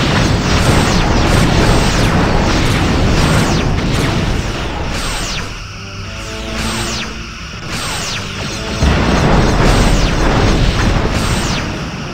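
Torpedoes and weapons firing in a space battle between a Warbird and a refit Sovereign in Star Trek Bridge Commander. A dense run of repeated whooshing launches and booming explosions is loud and continuous, easing briefly in the middle before picking up again.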